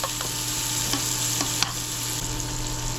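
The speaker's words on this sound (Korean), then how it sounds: "팬에 식용유 5숟갈 넣어주고 썰어둔 야채 들어갑니다" Julienned potatoes and vegetables stir-frying in oil over high heat, a loud steady sizzle punctuated by a few sharp clicks of a utensil against the pan, with a low hum underneath.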